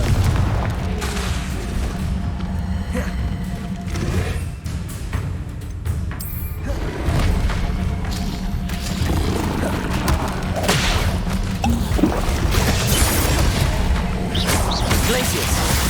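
Confringo fire spells explode repeatedly in the Hogwarts Legacy video game. Loud booms and crashes land in irregular bursts over combat noise throughout.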